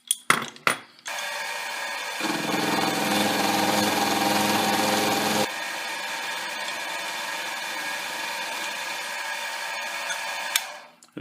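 A milling machine cuts the corner of a metal vise speeder held in a vise, a steady high whine and buzz with a louder, denser cutting stretch in the middle, preceded by brief clanks and ending abruptly.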